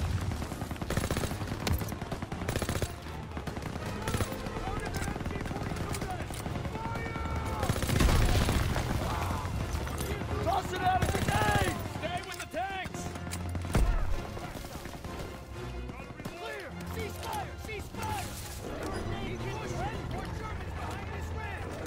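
Machine-gun fire aimed at an MG-42 nest in Call of Duty: WWII, dense continuous battle noise with rattling bursts and booms under shouted voices.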